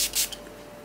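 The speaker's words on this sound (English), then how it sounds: "now I'm gonna also try out this Milani Make It Last setting spray" Two quick hissing spritzes of Milani Make It Last setting spray close by, a longer burst followed by a short one, then quiet.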